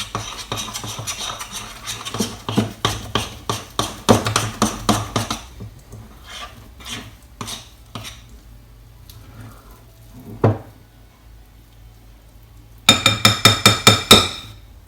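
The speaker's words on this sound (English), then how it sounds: "I'm actually going to use my spoon to mix it for a bit, just so it combines all together nicely" A spoon mixing sausage roll dough in a bowl, rapid rhythmic clinks and scrapes against the bowl in bursts, pausing to a few scattered knocks before another quick run of stirring taps.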